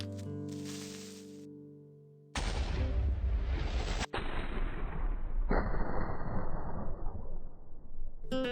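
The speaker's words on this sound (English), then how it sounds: "The explosion, while still small, created a giant hole in the side of the ship" A Minecraft creeper blows up beside a ship, a sudden loud blast followed by rumbling debris and sharp cut-in bursts of explosive noise lasting several seconds.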